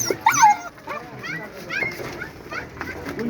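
Dogs at a pet and animal market in Fergana yelp and whimper in short bursts, close by, mixed with people talking nearby.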